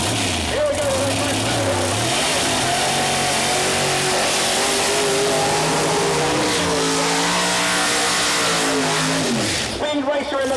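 Nitrous Pro Mod door-slammer drag cars, including a 1968 Camaro, roar at Mooresville Dragway, engines revving loud and sustained with shifting pitch, while an announcer talks over the racket.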